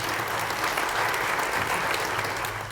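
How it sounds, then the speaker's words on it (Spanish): Loud, sustained applause from an audience welcoming a speaker at an Ecuadorian Ombudsman's Office accountability event, a dense steady clatter of clapping filling the room throughout. "Recibámoslo con un fuerte aplauso"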